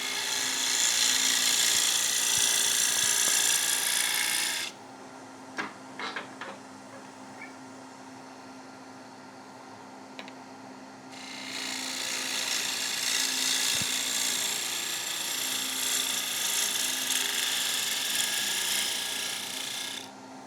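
A bowl gouge cuts a wooden bowl spinning on a lathe, two long loud bursts of shrill scraping with a quieter hum of the turning lathe and a few knocks in between.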